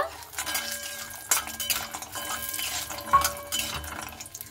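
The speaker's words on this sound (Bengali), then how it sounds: "এবার আমি বড়িটাকে হালকা করে ভেজে নেব।" Bori, small sun-dried lentil dumplings, fry lightly in well-heated oil for a spinach dish, giving a soft steady hiss and crackle under metal utensil clinks and scrapes against the pan, close by, with no talk.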